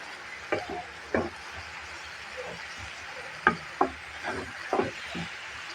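Prawns and cabbage frying in a pan, stirred with a spatula: a soft sizzle underneath and several sharp scraping clacks at irregular intervals, close and moderately loud, with no talk.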